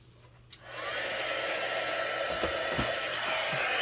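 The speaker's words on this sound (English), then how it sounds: "And now, let me grab my heat tool, my heat gun." A heat gun used for card making switches on with a click and then blows a steady, loud whooshing roar that holds at an even level to the end, with a few faint handling taps under it and no speech.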